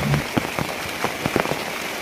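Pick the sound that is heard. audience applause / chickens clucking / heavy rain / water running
heavy rain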